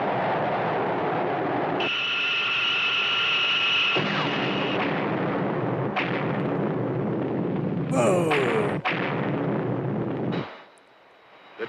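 A loud, dense rumbling roar of an explosion in a 1958 film, with blasts and swells, sustained and powerful before cutting off abruptly into near silence at the end.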